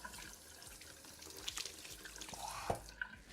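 Cold water runs from a kitchen tap into the sink, a steady close rush with a few drips and splashes near the end and no talk.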